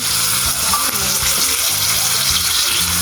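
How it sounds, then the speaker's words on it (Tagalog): A pan of fried milkfish hisses and bubbles loudly after a splash of water goes in, giving an even, continuous sizzle with faint stirring scrapes and no voices. "Lagyan po ni mama ng konting tubig po mga idol."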